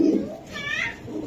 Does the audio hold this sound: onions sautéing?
no